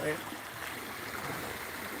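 Steady rushing of a river swollen by rainwater running off hills, fairly faint and continuous, with a voice speaking over it.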